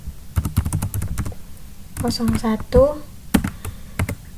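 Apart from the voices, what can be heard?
typing a database command on a computer keyboard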